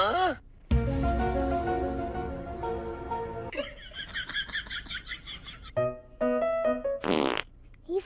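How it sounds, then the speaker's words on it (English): A dog farts during a funny animal clip, sounding as a buzzy, sputtering blast followed by short squeaky bursts, with people talking, laughing and reacting over and around it. "He farted."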